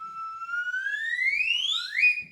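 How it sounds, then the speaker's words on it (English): A slide whistle plays as a comic radio-theatre effect, one long clear tone rising steadily in pitch and then bending upward sharply at the end, loud and solo with no talk over it. "Put that slide whistle away."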